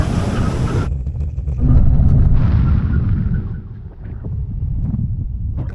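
A Tesla Model S Plaid brakes hard from speed on a runway: loud, steady roaring wind and road rumble that surges and then gradually eases as the car slows, with no voices.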